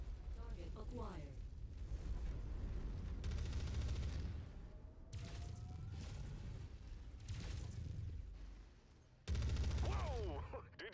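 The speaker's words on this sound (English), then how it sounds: "The ammo just went off like fireworks." Mech ammunition cooks off in MechWarrior 5, a long run of rattling blasts and booms like a fusillade, loud and dense, with a fresh burst near the end.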